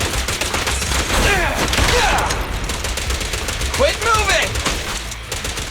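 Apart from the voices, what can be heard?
gunfire in video game Zenless Zone Zero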